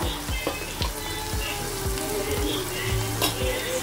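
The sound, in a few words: stirring fried onions with turmeric and chili powder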